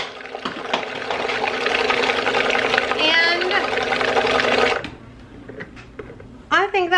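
Blender whirring through hummus with added water, a steady loud motor roar for about five seconds that cuts off abruptly, followed by quiet and a brief voice near the end.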